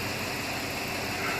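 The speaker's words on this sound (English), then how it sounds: "The engine is pretty quiet." A repaired truck engine idles with a steady, even hum, continuous and close, with no change in pitch or level across the short stretch.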